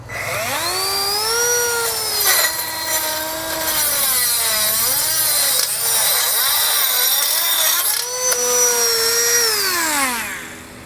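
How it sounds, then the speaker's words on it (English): A cutoff wheel trims metal wire during a Blue Ox base plate install on a 2018 Ford F-150, giving a close, high, whining grind that rises and falls in pitch across several passes. "we're going to take a cutoff wheel, we're going to trim as much of that metal wire as we can"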